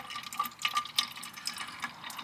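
Liquid, likely mixed with water, drains out of the fuel system of a Hatz diesel pressure washer, trickling and dripping quietly in small irregular splashes.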